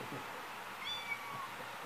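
A new kitten gives a few faint, thin meows, quiet and somewhat distant against a low background hiss.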